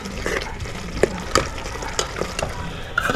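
Egusi soup with a little added water being stirred in a pot, a steady wet sizzle with soft scraping strokes and faint clinks throughout, no voices.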